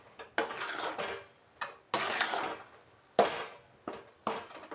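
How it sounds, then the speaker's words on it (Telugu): Chili powder is stirred into a bitter gourd pickle in a pot. A spoon scrapes and clinks against the vessel in several separate bursts of mixing with short pauses between them, close by and with no talk. "ఉండలు లేకుండా చక్కగా కలుపుకోవాలి కారం"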